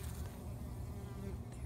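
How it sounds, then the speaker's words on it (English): Bees buzz steadily among large zucchini blossoms in a backyard suburban garden, a close, continuous low drone with no talking. "you can see I've got big blooms with bees in there doing their thing"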